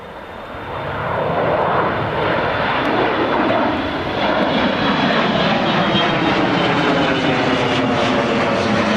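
A smoky departing airliner taking off at Newcastle International Airport, its engine roar loud and steady throughout with a broad rumbling wash that slowly shifts in tone as it climbs away.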